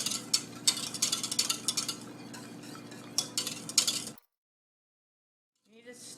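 A spoon scraping and clinking around a pot of cooking pecan coconut frosting, repeated sharp taps and scrapes in an irregular rhythm over a low kitchen hum, then a sudden drop to silence.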